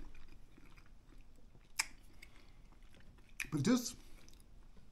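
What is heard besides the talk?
chewing crunchy mackerel spaghetti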